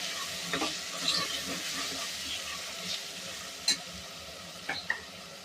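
Coriander powder masala is dry-roasted and stirred in a pan while making a white palav: a quiet, continuous low sizzle with occasional scraping clicks from the stirring utensil.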